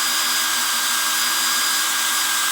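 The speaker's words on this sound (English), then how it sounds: "Just gradually increase the speed. You don't need to push. Just let the drill cut its own way." A power drill runs steadily at high speed boring a hole, a continuous whirring grind with no pauses, close and fairly loud.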